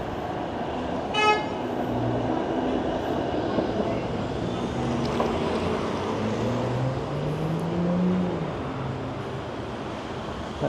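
A car horn toots briefly on busy Spadina Avenue near Chinatown in Toronto, with steady traffic noise and passing vehicles rumbling throughout.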